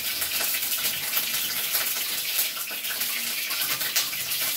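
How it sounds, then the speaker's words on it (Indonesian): Leaves being washed under a running kitchen tap, a steady hiss of water spraying and splashing without pause, close and fairly loud throughout. "Aku cuci dulu apa itu daun gedang-gedangannya ini."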